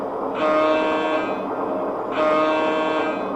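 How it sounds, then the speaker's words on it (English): The Laurentian train departing in a video game, two long sustained horn blasts over a rumbling train background, loud and near. "The Laurentian is now departing."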